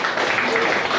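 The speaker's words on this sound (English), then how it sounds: "Could you give them a big round of applause?" A brief, steady wash of audience applause at a senior citizens party honouring prize-winning students, dense and sustained throughout.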